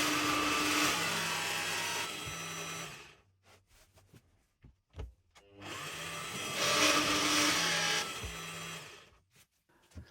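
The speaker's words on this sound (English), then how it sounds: "And then I can drill the hinges with a 35mm Forstner bit." Two bursts of loud, high-pitched drilling as a 35mm Forstner bit bores hinge holes in cabinet doors, each lasting about three seconds, with a pause of small knocks and clicks between them.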